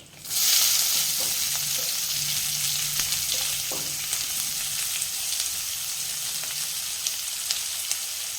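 Chopped onion drops into hot oil already seasoned with curry leaves and asafoetida for dal khichdi, setting off a loud, steady sizzle that settles into continuous frying hiss with faint clinks, no voices.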